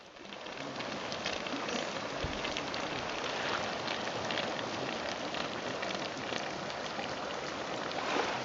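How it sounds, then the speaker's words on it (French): Water from a hot spring in Papua New Guinea rushes and splashes continuously, a dense even hiss with small patters throughout, steady and fairly near with no voices. "Voici une source d'eau chaude, dans un paysage de carte postale."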